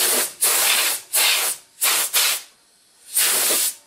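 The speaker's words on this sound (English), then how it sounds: "I will blow this out with compressed air, because it can get a little bit dirty" Compressed air blowing dust out of a desktop PC case, five sharp hissing blasts of varying length with short gaps, loud and close.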